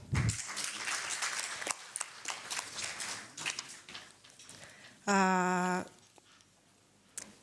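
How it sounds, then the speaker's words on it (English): Audience applause at a pan-African conference on girls' and women's education, moderate clapping from a hall, with a brief loud tonal burst partway through and the clapping tapering off. "Encore une fois, des applaudissements."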